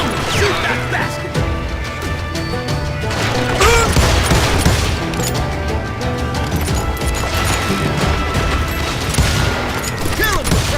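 Gunfire in Call of Juarez Gunslinger rings out in dense, loud bursts of shots mixed with crashing impacts that continue without a break.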